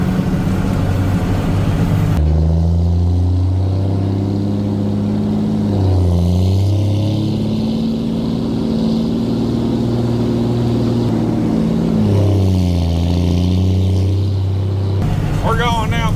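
Steady, loud engine drone of a tractor pulling a bank-out grain cart through a rice field at harvest, with shifting tonal hum and revving as it moves; a person talks over the machinery throughout.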